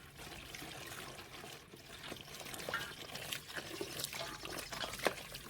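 Water rinses out of the open tap of an upturned homebrew beer minikeg, a close, irregular trickle with gurgling splashes and spurts that grow a little stronger toward the end.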